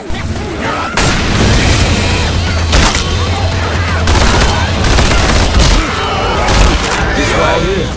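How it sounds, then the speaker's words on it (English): Molotov cocktail thrown and bursting into flame in Hard Rain: Downpour, a loud, dense stretch of booming fire and crackling blasts that runs continuously with gunfire-like bursts, while players talk. "Throwing a Molotov."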